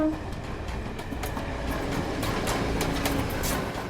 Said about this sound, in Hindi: बैकग्राउंड में मैंने एक ट्रेन की आवाज़ सुनी है